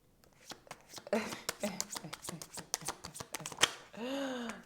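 Playing cards being shuffled in a series of quick riffling and tapping bursts close by, with people talking over and between them, ending in a brief sustained flutter.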